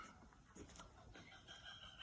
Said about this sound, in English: The chickens are going nuts.